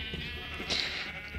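Sheep bleating in the Minecraft video game, a short bleat rising over steady game background noise, moderately loud and alone without talk.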